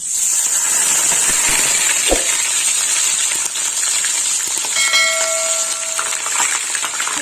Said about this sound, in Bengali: পেঁয়াজ বাটাটা দিয়ে দিলাম এবার একটু পেঁয়াজটা লাল লাল করে ভাজা হবে